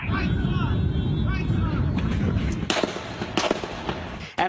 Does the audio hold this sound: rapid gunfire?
yes